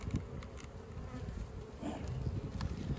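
Honeybees buzz steadily around a queen being marked, a close, continuous insect drone with a few louder passes as individual bees fly near, no talking.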